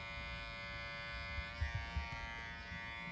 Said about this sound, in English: I'm going to put my trimmer right on that spot and then walk it over.